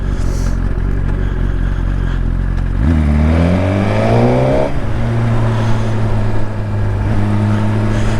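Motorcycle engine on a ride, idling low, then revving up through a rising pitch sweep before settling into a steady, loud drone, close and continuous with no talking.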